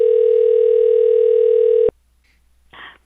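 A steady telephone dial tone sounds loud and clear for about two seconds before cutting off abruptly as a call is placed, followed by brief faint clicks.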